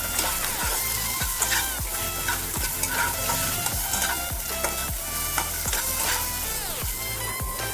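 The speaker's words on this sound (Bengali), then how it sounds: "আলুগুলো আমার ভালো করে ভাজা হয়ে গেছে," Potatoes with salt and turmeric frying in a pan, a loud continuous sizzle broken by repeated scraping stir strokes at a steady rhythm, close up with no voices.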